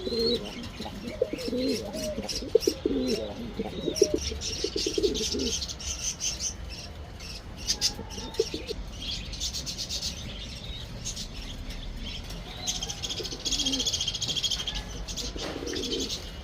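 Pigeons kept for sale coo close by in soft rolling phrases, joined by scattered chirps and twittering from other birds, with a steady faint hiss of insects underneath and brief knocks now and then.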